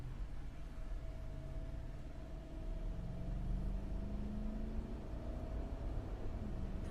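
A 2009 Lexus GX470 engine accelerating while driving, a smooth low rumble heard from inside the cabin with a steady rising tone, no talk over it.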